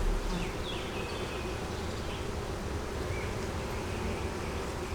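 Honey bees buzz densely and continuously around an open double deep hive with a honey super, a loud steady hum filling the air close up, with occasional individual bees droning past.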